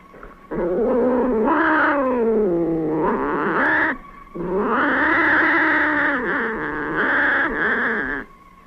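A cat gives long, drawn-out wailing yowls in two sustained bursts with shifting pitch, loud and close, with no talking over them.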